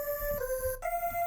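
A sustained choir vocal sample, repitched in Ableton Simpler with Warp Mode off, holds one bright tone, then jumps abruptly to a higher pitch, the timbre shifting with it, under low background murmur.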